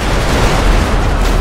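A tank blows up in the video game GTA 5 with a loud, close, roaring explosion that holds a sustained rumble throughout. No speech over it.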